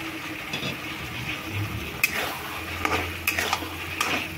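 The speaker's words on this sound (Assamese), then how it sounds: "এতিয়া মই ইয়াতে ভাজি থোৱা আলুখিনি দি দিওঁ" Fried potatoes are tipped into a pan of cooked-down peas and tomato and stirred, with spoon scrapes, clatter and sharp knocks against the pan over a low sizzle, and no voices.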